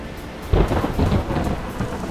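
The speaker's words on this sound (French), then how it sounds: "Un terrible orage se déchaînait sur la plage." Thunderstorm rumbling over a beach, a sudden low thunder crash hitting after a brief lull and rolling on beneath steady heavy rain, with no voices.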